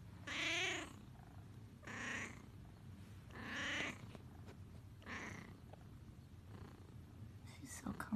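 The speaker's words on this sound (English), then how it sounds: "Kitty in a blanket." A cat purrs while wrapped in a heated blanket, a soft close rumble running throughout, with quiet whispered talk in bursts over it.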